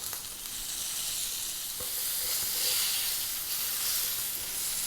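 A bone-in ribeye steak sizzles in a very hot pan as its fat renders, a loud, continuous hiss that swells a little partway through, with no talking.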